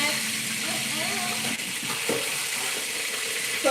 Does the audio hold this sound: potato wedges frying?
yes